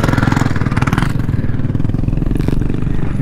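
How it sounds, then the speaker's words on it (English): A pit bike engine runs loud and close outdoors at Russell Creek, a steady rough mid-pitched clatter with no break. "Pit bike out here."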